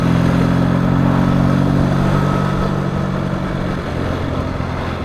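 Triumph T140 motorcycle with Dunstall replica silencers and AMAL Mk2 carburettors idles loudly and steadily close by, with a low throbbing exhaust note.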